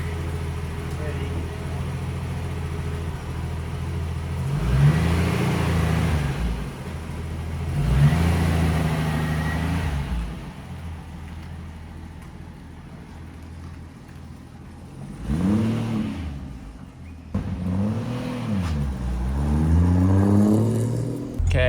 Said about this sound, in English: Okay, so it's idling really well